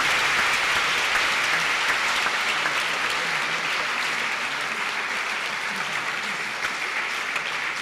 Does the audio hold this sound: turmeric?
no